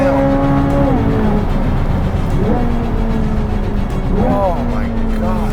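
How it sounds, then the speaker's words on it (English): A 2023 Chevrolet Corvette Z06 engine wails at high revs and drops sharply through repeated downshifts, with rising blips and falling pitch sweeps, loud and close on a race track. "those downshifts are fantastic"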